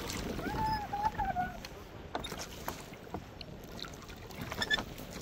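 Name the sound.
kayak paddling on lake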